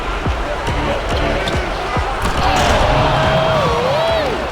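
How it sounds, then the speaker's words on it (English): In an NBA 2K Legends game between the Los Angeles Clippers and Toronto Raptors, a basketball bounces in a steady dribble and then slams through on an alley-oop, amid constant arena crowd noise and game commentary. "Slams home the alley-oop."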